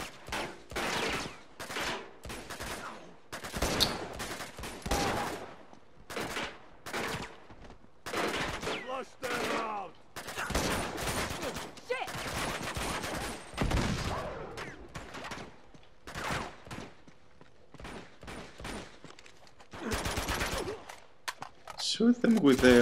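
Gunfire in the Uncharted 2 action video game comes in repeated sharp bursts and volleys with short gaps between them, alongside occasional voices.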